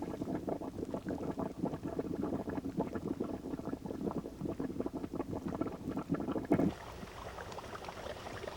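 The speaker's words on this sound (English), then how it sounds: "A mud pot forms on top of this type of fumarole." A mud pot atop a Yellowstone fumarole bubbles and gloops continuously in a thick, irregular burble close by, with one louder plop near the end.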